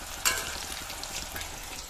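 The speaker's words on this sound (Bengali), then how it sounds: "এই যে পাতলা পাতলা করেই কাটা, ওগুলোই সকালে এখন ভেজে ফেলছি" Thin slices of eggplant fry in a pan with a steady, soft sizzle and a brief clatter near the start, heard alone without talk.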